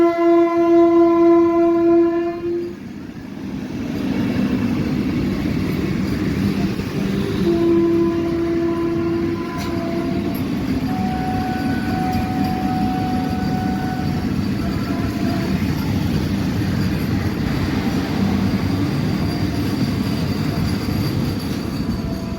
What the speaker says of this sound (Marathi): तर मित्रांनो आपली ट्रेन जी आहे ती राहुरीवरून निघालेली आहे